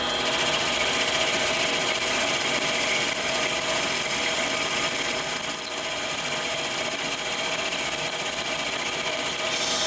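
Metal lathe turning slowly while a high-speed steel cutting tool shapes a workpiece, giving a steady mechanical hum with a constant high whine, close and unbroken, no talking.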